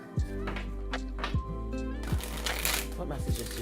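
Tarot cards being shuffled by hand, a run of quick papery riffles and soft taps repeating close up, with the card flutter growing denser toward the end, under low background hum.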